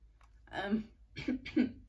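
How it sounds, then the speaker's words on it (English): A brief throat-clearing cough, then two short harsh coughs in quick succession from a lingering post-COVID cough, close and fairly quiet, with no speech. "I still have a little bit of cough because of COVID."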